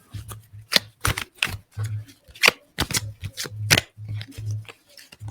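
Tarot cards shuffled by hand in a run of quick riffling and tapping bursts, close and fairly loud, with a low steady hum beneath and no talk.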